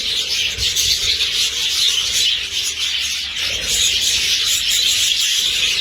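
Budgies, or Australian parrots, chatter and chirp continuously in a large concrete-floored outdoor aviary, a dense, busy twittering from many birds at close range.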